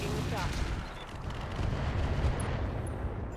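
Heavy weapon fire in the mech strategy game RogueTech, a BattleTech mod, sounds as a rumbling, explosive burst with booming low rolls and a crackling tail, loud and sustained over a few seconds.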